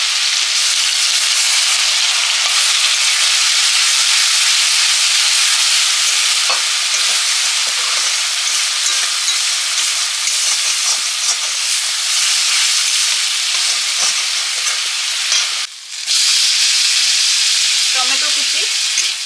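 Onion paste with dried chillies sizzles and fries steadily in a pan, a loud continuous crackling hiss with faint stirring scrapes, briefly cutting out near the end.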